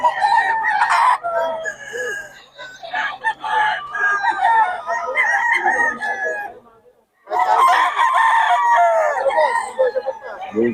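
A bull stag rooster crows repeatedly and loudly up close, its long calls filling most of the stretch with a short pause before another crow, with other fowl faintly in the background.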